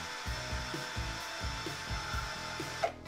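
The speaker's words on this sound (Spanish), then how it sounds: "ahora voy a pasarlo por la otra lija que tengo, la verde, la Green" An airbrush needle rubbed on green Kovacs Japanese dry-sanding paper, a faint, close, rhythmic scratchy rasp in short repeated strokes over a steady background hum.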